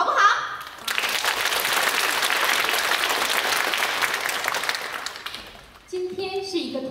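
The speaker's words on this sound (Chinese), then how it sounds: "首先让我们再次以热烈的掌声谢谢刚刚为我们带来精彩的古典舞串烧" Warm applause from the audience at a dance showcase anniversary performance, a full steady roar of clapping that swells after a brief announcement voice, fades gradually, and gives way to speech at the end.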